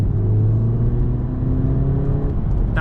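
A VW MK7 Golf R engine revs with its sound imposer switched off, a steady droning rumble with rising and falling harmonic tones that holds loud and close throughout, ending with a brief faint click.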